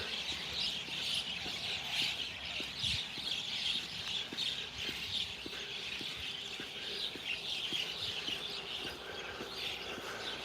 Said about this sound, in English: And you hear the birds going crazy right now too,